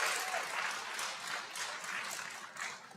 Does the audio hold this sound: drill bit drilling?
no